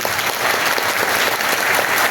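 An audience applauds at an auction of an embroidered artwork in Johor, Malaysia, a dense, even wash of many hands clapping, loud and continuous with no speech over it.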